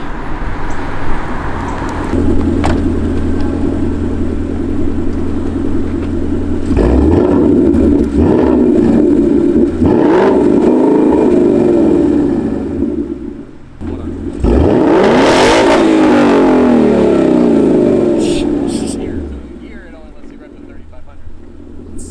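A 2020 Mustang GT V8 with a Borla ATAK aftermarket exhaust drives nearby, its throaty rumble swelling with a couple of sharp throttle surges and easing off between them.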